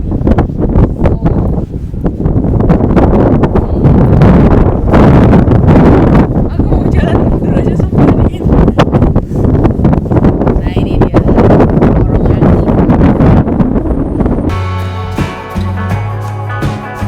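Strong wind funnels down a city street near U-Chicago like a wind tunnel, roaring and buffeting the microphone in loud, continuous gusts for most of the stretch before easing into quieter background near the end.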